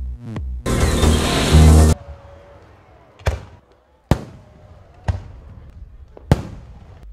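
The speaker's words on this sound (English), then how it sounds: "ushered in the new year with a dazzling display of loud fireworks illuminating the night skies all across the country" Loud fireworks going off during a New Year's celebration in Guyana: a sustained crackling burst followed by four sharp, widely spaced booms, each decaying quickly, with no voices.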